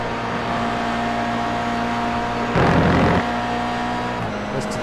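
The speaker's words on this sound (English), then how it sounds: "Listen to the curbs rumbling away, very, very loud" Race car tyres rumbling hard over kerbs at Silverstone during a GR86 series race, a loud, dense burst of roughly half a second cutting through the steady engine drone of the car.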